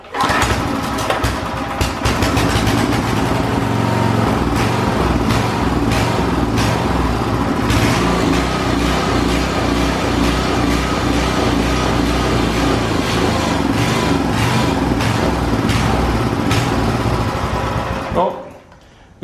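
Briggs & Stratton 5hp tiller engine, a free trash-day find, runs loud and steady for most of the clip with a fast, rattly mechanical chatter, then cuts off abruptly near the end.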